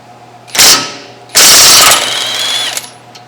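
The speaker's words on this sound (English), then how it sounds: "So we're gonna use our impact here," An impact wrench removes size 21 caliper bracket bolts from the rear brakes of a 2015 Ford F150, hammering in a short loud burst and then a longer rattling run, close up and alone.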